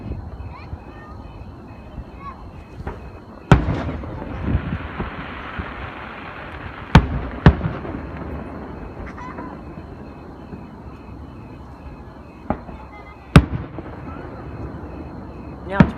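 Fourth of July fireworks bursting outdoors, several sharp distant bangs spaced irregularly over a low background rumble, with people chatting throughout.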